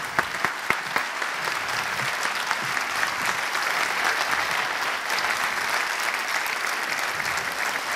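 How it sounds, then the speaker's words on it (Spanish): Steady, loud audience applause fills a theater as a guest speaker is welcomed onto the stage in Uruguay, dense clapping sustained throughout with a few sharper individual claps near the start. "un fuerte aplauso"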